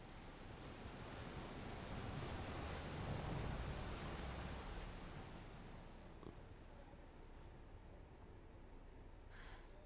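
Steady wash of rolling water waves in Final Fantasy 16, a soft continuous surf-like rush swelling slightly mid-way, fairly quiet with no talking over it.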